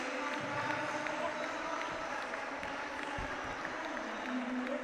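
Applause from the audience fills an arena after a volleyball cup final match in Macedonia between UGD Stip and OK Strumica. It is a steady crowd roar with clapping and a commentator's voice faintly beneath it.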